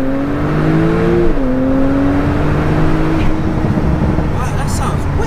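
A tuned Porsche 991.2 Turbo in Sport Plus mode, its engine and exhaust droning loud and steady with a tone that rises and then dips, a little crackle near the end.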